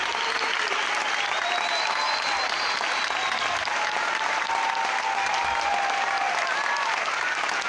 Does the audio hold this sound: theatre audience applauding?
yes